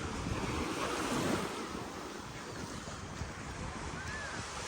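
Ocean surf rolls in at Panama City Beach during spring break, a loud continuous wash of waves mixed with strong wind buffeting the microphone, heard close and without talk.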